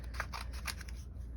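Scissors snip through a piece of cardstock for card making, several quick close cuts in a rapid rhythm with no talking.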